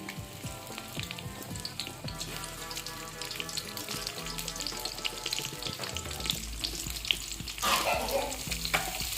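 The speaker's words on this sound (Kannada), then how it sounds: "ಎಣ್ಣೆ ಕಾದ್ಮೇಲೆ ಕಟ್ ಮಾಡಿರೋಂಥ ಈರುಳ್ಳಿ ಹಾಕ್ತಾಯಿದ್ದೀನಿ." Chopped onion dropped into hot oil for tomato chutney crackles in a loud, continuous sizzle up close, growing more intense toward the end.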